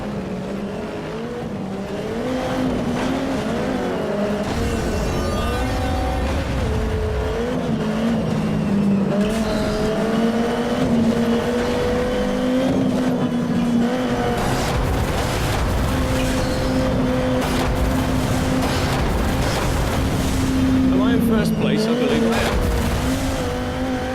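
Racing cars in the video game MotorStorm, shown at a press event: loud, sustained engine drone with shifting revs and tire squeals, running continuously with talk mixed in.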